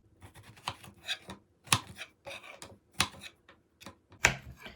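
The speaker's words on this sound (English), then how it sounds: "You need to cut the end off, then cut it into slices." A table knife slices through a large strawberry on a cutting board, a quiet, close series of uneven taps and clicks as the blade meets the board with each cut, and no voices.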